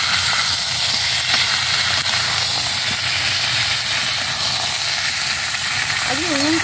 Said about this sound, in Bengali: চিকেনগুলো দিয়ে দিয়েছি, এবারে আলুর সঙ্গে একটু হালকা করে ভেজে নেব।